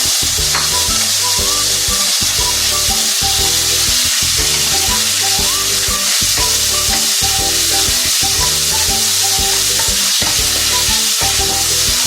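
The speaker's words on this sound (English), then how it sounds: "So now that the oil is already heated up, I'm going to fry the pork." Pork stir-fries in hot oil, a loud, dense sizzle and crackle that runs steadily throughout with rhythmic low thumps beneath it and no voices.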